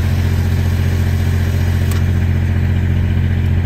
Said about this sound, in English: You'll see the diesel engine hour meter start ticking down and the engine will start.